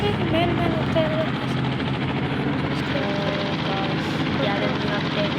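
A police helicopter in an Indian bike video game, its rotor chopping in a continuous loud drone that stays close and steady throughout, with no talk over it.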